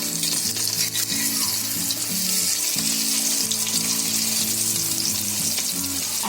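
Shetka fish sizzles and fries on a hot iron tawa, a loud continuous crackle and hiss close up, with faint background music underneath.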